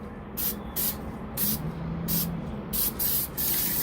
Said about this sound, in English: Just spray it slow on the side.